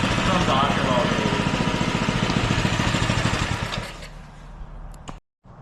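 A Doodle Bug mini bike engine running, a fast buzzing small-engine putter that is loud and close, then it sputters and cuts out near the end before a brief silence.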